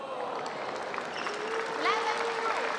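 Crowd applause rolls steadily through an arena at a table tennis league match between Seattle and Portland, with a commentator talking over it and a few squeaky shoe sounds near the end.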